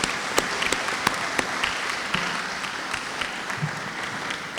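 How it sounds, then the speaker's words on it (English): Audience applause at a community center ribbon cutting, a steady patter of many hands clapping with sharp individual claps standing out, moderately loud and unaccompanied by talk. "So I want you all to give yourself a round of applause for that."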